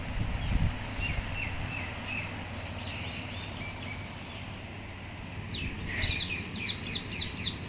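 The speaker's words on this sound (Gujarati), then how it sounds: "બધા વહેલા વહેલા પંખી દાણા ખાવા આવી જાય છે" Scattered bird chirps and tweets as birds eat grain, over a steady outdoor hum, with a brighter cluster of quick chirping near the end.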